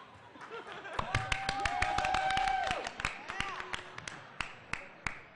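Scattered claps and cheers from an audience, irregular and moderately loud, with voices talking and calling out among them.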